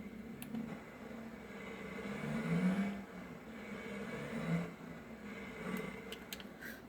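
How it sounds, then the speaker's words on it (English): A truck with a 12-valve Cummins diesel engine idles and revs steadily, swelling louder around the middle and then easing back, with no talking. "this truck here does actually sound like a 12 valve Cummins"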